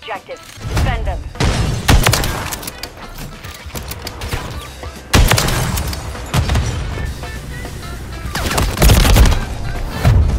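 Heavy gunfire in Modern Warfare 3, a Search and Destroy match, with loud sniper rifle shots and sharp impacts ringing out repeatedly, dense and close, over busy game noise.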